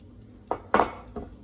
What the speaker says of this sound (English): I might try flipping them.